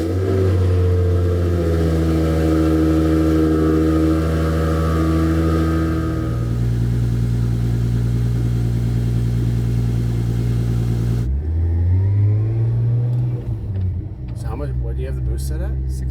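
A modified Toyota mini truck with a mildly tuned 2JZ engine making 380 horsepower revs and accelerates, its loud rising engine drone climbing through gears and dropping, with talk over the engine.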